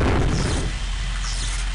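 Explosion in the video game Daikatana, a loud broad blast that fills the first moment and then decays into a roaring, crackling tail.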